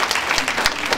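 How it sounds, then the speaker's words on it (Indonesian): An audience at a Puteri UMNO political rally for the Pengkalan Kubor by-election claps in a dense burst of applause, loud and close, filling the whole brief moment. "berikan tepukan untuk sahabat-sahabat kita yang berjuang"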